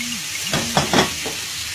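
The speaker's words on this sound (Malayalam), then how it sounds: "ഇനി ഇതിലേക്ക് നമ്മൾക്ക് തക്കാളി ചേർത്ത് കൊടുക്കാം" Hissing sizzle of tomatoes hitting hot oil, with a few stirring scrapes, close and fairly loud.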